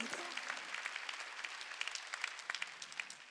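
A congregation claps steadily during a church service, a sustained patter of many hands at moderate volume.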